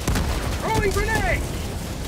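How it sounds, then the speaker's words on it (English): Grenade blast in Helldivers 2 amid heavy battle noise, with booming bursts and gunfire mixed with gliding electronic tones and voices. "Throwing grenade!"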